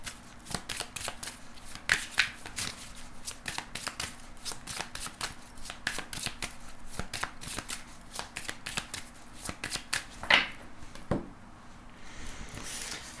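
A tarot deck is shuffled by hand in quick, repeated riffles and card slaps, a dense run of crisp clicks lasting over ten seconds, close up with no talking.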